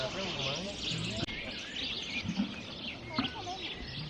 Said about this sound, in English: You can hear all the birds chirping away.